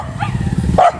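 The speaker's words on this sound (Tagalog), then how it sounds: "Mga alaga nilang aso." Pet dogs at a rural home in the Philippines give a few short, close yips and barks, one louder bark standing out near the end over low background rumble.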